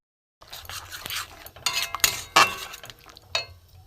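Spice paste with green chilli paste being sautéed in a pan for cabbage paturi: a run of metallic clinks and scrapes as a spoon stirs against the pan, irregular and fairly close, with no voices.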